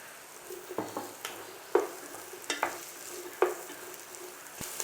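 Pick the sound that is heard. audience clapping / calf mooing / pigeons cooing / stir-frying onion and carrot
stir-frying onion and carrot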